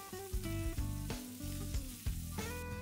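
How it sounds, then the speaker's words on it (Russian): Ham frying in a pan gives a steady close sizzle, broken by a few stirring scrapes over a short stretch. "Если вы используете ветчину, то я все же рекомендую ее поджарить."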